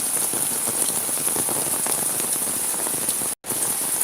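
A downpour drums on surfaces in Sylhet as floodwaters rise again, a thick continuous wash of rain heard close and loud with no voices, broken only by a momentary gap near the end.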